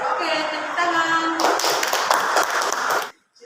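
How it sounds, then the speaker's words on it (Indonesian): Classroom applause at a junior high school presentation session: dense, continuous clapping from a group of students bursts in and fills the room for under two seconds, then stops abruptly. Some talk precedes it. "Oke, tepuk tangan."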